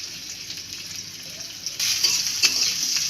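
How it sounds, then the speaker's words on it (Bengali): Sliced onions and green chilies frying in oil in a wok, giving a steady close sizzle that jumps louder and brighter partway through, with no talk. "এবার আমি একটি কড়াইয়ে তেল নিয়ে নিয়েছি, এতে আমি পেঁয়াজ কুচি, কাঁচামরিচ ফালি"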